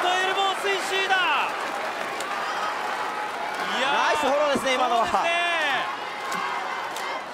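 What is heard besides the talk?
wrestling crowd cheering for Hirayanagi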